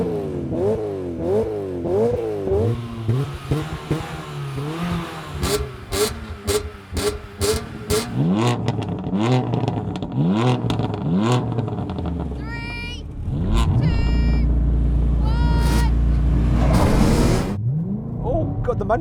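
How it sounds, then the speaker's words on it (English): Generations of BMW M3, one of them a manual, launch hard in a drag race. Their engines climb in repeated rising sweeps through gear changes, ending in a loud, sustained roar, with people talking over much of it. "we're going to have a drag race"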